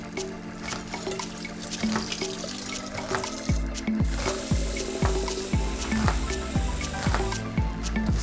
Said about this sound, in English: so please put some water in it